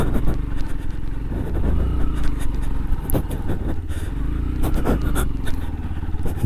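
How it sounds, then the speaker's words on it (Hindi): A Yamaha FZ-X 149 cc motorcycle ridden off-road, its engine droning loud and close with rough rumbling, rattling clatter and scraping from the rough ground. "हो साउंड अच्छा दे रही है बाइक"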